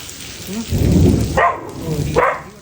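Rain falls steadily on surfaces while a deep roll of thunder rumbles nearby, followed by a couple of sharper noises over the rain.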